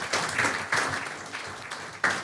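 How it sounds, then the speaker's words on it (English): Crowd applause at a town hall meeting, uneven bursts of clapping that rise and dip over a couple of seconds, with a sharp renewed surge near the end. "Give her a round of applause again."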